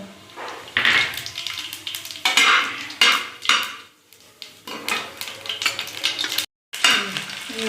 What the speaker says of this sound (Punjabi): ਤੇਲ ਗਰਮ ਹੋ ਗਿਆ ਤੇ ਇਹਦੇ ਵਿੱਚ ਆਪਾਂ ਜੀਰਾ ਪਾਤਾ